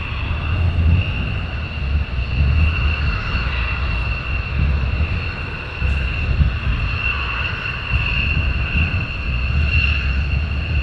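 Military jets with external fuel tanks depart RAF Lakenheath on a ferry flight, giving a loud, sustained engine roar with a steady high whine over a broad rumble, heard from a distance with no voices.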